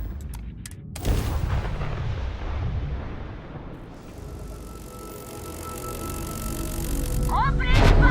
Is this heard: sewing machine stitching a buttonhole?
no